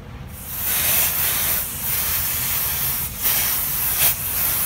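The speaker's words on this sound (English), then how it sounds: "This is after spray painting it 2 times with the Rustoleum zinc galvanizer spray paint" Rustoleum zinc galvanizer spray paint hisses from the can onto an old Jeep Wrangler YJ fuel tank, a steady close broadband spray with a few brief louder bursts and pauses.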